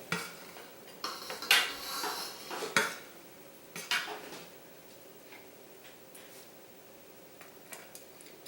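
Dishes and cutlery clink and clatter while vegan soy kheema is plated in a kitchen, with a few sharp knocks early on and lighter scattered taps afterward, no voices heard.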